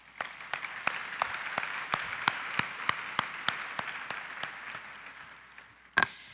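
An audience applauds at an annual meeting opening session, with a steady wash of many hands clapping moderately loud in a large room and sharp individual claps standing out in the crowd noise.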